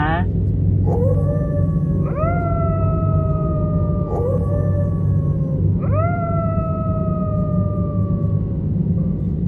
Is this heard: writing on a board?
no